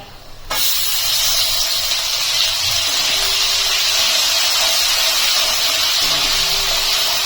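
Onion paste sizzles loudly in hot oil over whole garam masala, cumin and bay leaf, cooking for a rui fish recipe. It starts with a sudden burst and then holds as a close, steady hiss with no talk.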